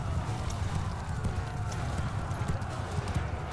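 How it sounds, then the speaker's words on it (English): Horse hooves gallop in Mount & Blade II Bannerlord as a rapid, even clip-clop clatter that runs throughout at fairly low volume, with a faint voice at times. "And get my horse around behind them. Come right here, horse."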